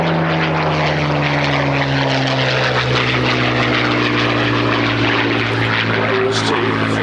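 A Supermarine Spitfire Mk.IX, MH434, flies at an air and car show at Little Gransden; its piston engine gives a loud, steady droning roar that holds for the whole stretch.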